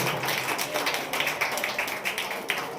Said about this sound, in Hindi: जोर से ताली बजाएं परमेश्वर के लिए